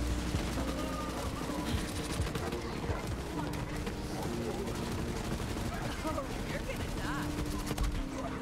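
The M10 La Varlope assault rifle in a Borderlands game fires in rapid bursts of crackling shots mixed with explosive rocket pops, dense and continuous at moderate loudness with game noise layered throughout.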